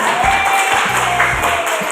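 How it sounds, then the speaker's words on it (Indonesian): Classroom applause for a student group after their presentation during a teacher's academic supervision session, a dense steady wash of many hands clapping at moderate loudness with some low background noise throughout. "Bisa diberikan tepuk tangan ke kelompok 3."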